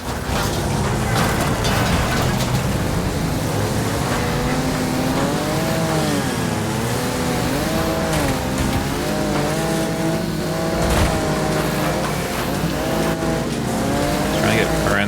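A race car in The Crew 2 revs hard with a wavering engine tone while its tires squeal through corners. The engine is loud and close, and it runs without a break through the whole stretch.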